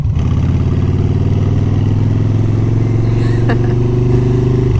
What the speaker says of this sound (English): we pull in on both brakes and kick it down into first gear